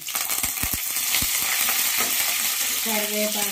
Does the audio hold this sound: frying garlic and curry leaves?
yes